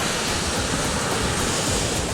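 Powerful ocean swell surges along a Hawaiian shore, a loud, continuous broadband wash of surf with no pauses or voices.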